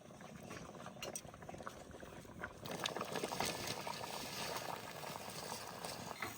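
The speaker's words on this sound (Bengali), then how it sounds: "এবার পুঁই শাক দিয়ে দেবো এই আলুর মধ্যে" Potatoes and tender Malabar spinach simmer in water in a wok, a steady low bubbling that grows denser and louder partway through, with faint clattering on top.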